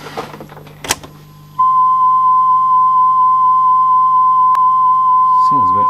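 A repaired Sanyo RD4550 tape deck plays back a steady, pure test tone after clicks and handling noise, then a brief murmur near the end.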